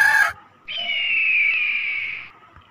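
A short bird call is followed by a sustained, wavering high-pitched cry that lasts well over a second and could pass for a rooster or owl. The sounds are played back one after another in a quiet room.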